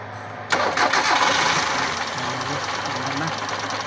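The engine of a 1997 Kia cranks and catches after sitting six months without running, then settles into a loud, rough, steady running sound with faint voices nearby.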